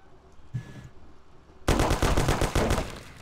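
A Tommy gun fires in a video game: a brief faint burst, then after a pause a loud sustained automatic burst of rapid, evenly spaced shots lasting over a second, close and dominant with no talk over it.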